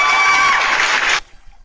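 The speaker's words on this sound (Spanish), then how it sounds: "le recibimos con un fuerte aplauso para la gloria del Señor Jesús" Church congregation cheering and applauding to welcome visitors, a loud dense wash of shouts and clapping that cuts off abruptly, leaving near silence.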